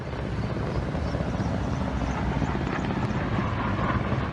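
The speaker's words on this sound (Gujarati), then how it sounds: "આકાશમાં ચક્કર લગાવતા સ્વાન હેલિકોપ્ટર્સ" Helicopters circle overhead, producing a steady, loud, broadband rotor and engine roar that holds at an even level throughout without any pause or break.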